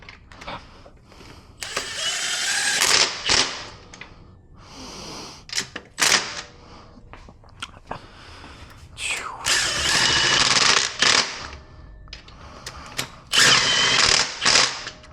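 Rapid metallic clicking of a ratchet tightening intake manifold bolts on a Subaru EJ engine, close bursts separated by pauses, with someone talking quietly between them.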